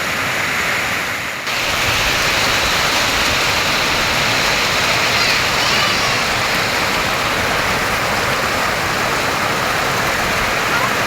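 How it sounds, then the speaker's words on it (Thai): A strongly flowing waterfall during rain gives a loud, steady broadband roar of rushing water that fills the whole stretch, with only a brief dip near the start. "น้ำไหลจัดจ้า"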